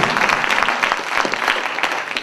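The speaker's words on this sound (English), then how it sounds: "Clap for him." A comedy club crowd claps to welcome a stand-up comedian onto the stage at a college show in Oregon, a full, steady burst of applause with no talking over it.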